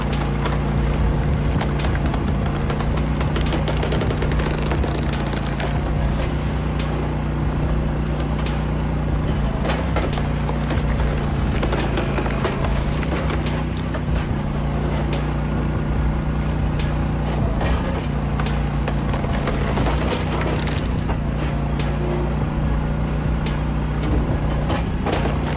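A Timberwolf Alpha 6 log processing machine, built for logs up to 20 inches in diameter, runs with a continuous low diesel drone and intermittent clanks and knocks as it works on logs, with no talk.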